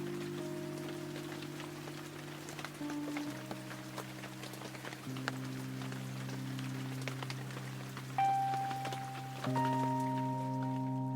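Steady rain patters throughout, with faint scattered drops under sustained, gently shifting music tones that grow slightly louder near the end.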